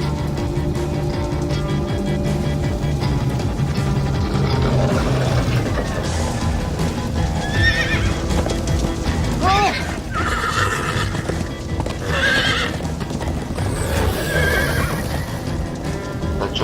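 Horses in the Minecraft Story Mode video game whinny repeatedly and clop along, several neighs rising over a steady galloping rumble, while characters talk throughout.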